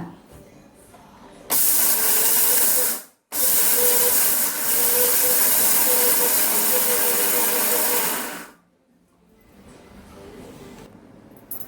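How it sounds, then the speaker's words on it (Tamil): A mixer grinder grinds a batch of spices for idli podi, a loud steady whirring roar that starts abruptly, cuts out briefly for a moment, resumes and then stops, leaving quiet room sound. "இனிமேல் அப்படியே அரைச்சிட வேண்டியதான் மிக்சியில்."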